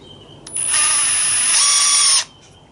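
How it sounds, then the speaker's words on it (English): A power drill whirs up sharply drilling holes in a rib for a 1917 Sopwith Camel replica, runs at a high steady whine for under two seconds, then cuts off abruptly. "I'm going to push down on the drill while I drill it"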